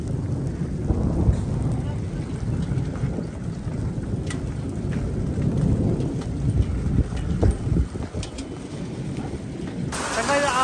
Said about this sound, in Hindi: इतनी तेज आंधी बारिश